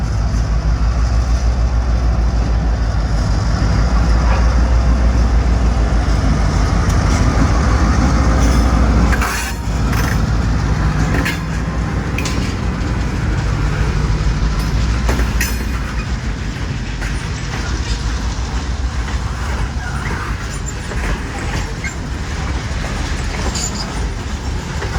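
A CSX freight train rolls past on rails in Miami, Florida, with a loud, close rumble, clickety-clack of wheels over joints and faint squeals, easing slightly as the cars continue by.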